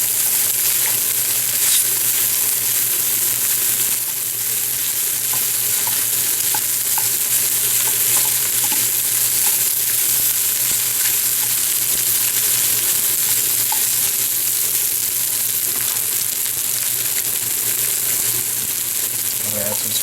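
Chicken and shrimp fried rice sizzles and fries steadily in a hot pan, with the scrape and clatter of stirring throughout and no talking.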